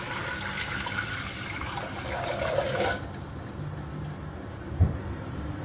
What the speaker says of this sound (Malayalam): ഇനി നമുക്കിതിലേക്ക് വെള്ളം ഒഴിച്ചു കൊടുക്കാം.